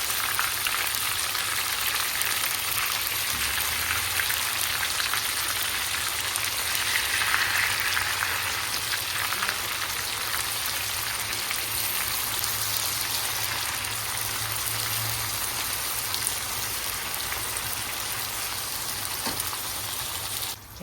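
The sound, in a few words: hilsa fish frying in spiced oil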